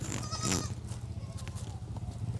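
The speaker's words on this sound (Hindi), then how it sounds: "ये जो बड़े सींगों वाला बकरा आपको नज़र आ रहा है, ये सिंध के इलाके से मंगवाया गया है" Large-horned goat from Sindh bleating once, close and clear, a short wavering cry followed by quieter animal stirring on a farm.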